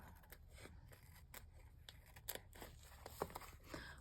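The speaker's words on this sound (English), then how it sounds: "These are my scissors that I use to cut through sticky things" Scissors that need sharpening snip through sticky paper for envelope folios. Repeated short snips and crinkly scraping sound close and fairly quiet, in an irregular rhythm.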